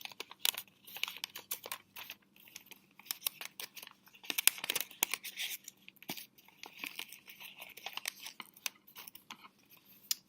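Sheets of origami paper are folded and creased for an icosahedron model, a close run of crisp crinkles, rustles and sharp snaps with short pauses between.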